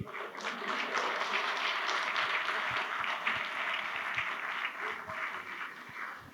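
An audience applauds at an event with the Governor of Uttarakhand, a continuous, fairly even patter of many hands heard at moderate distance and somewhat subdued in level, holding steady throughout.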